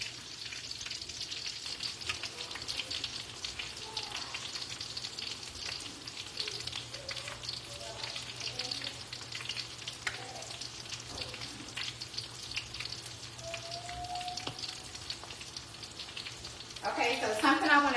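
Shrimp egg foo young patties fry until crispy in a pan, giving a steady, fairly loud sizzle throughout, with a brief stronger burst of crackling near the end.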